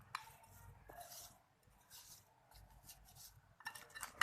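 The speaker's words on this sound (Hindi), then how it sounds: "अब इसके ऊपर हमने डाल देना है मज़ेदार सा सीक्रेट इंग्रेडिएंट, जो है ग्रेप फ्रूट का जूस, और इनको मैं करूँगी अच्छे से मिक्स" A spoon clinking and scraping in a bowl of fruit chaat mixed with grapefruit juice, soft irregular clinks and wet stirring, close but quiet, with no talk.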